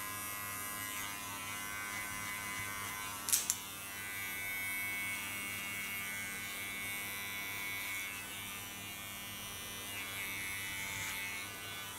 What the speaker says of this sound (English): hold my clipper in an angle of 45 degrees again